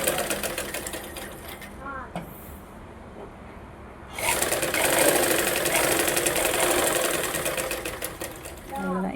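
A sewing machine stitching a lined blouse, running in a steady mechanical whir that starts lighter and grows louder and busier midway, close by, with a voice speaking at times.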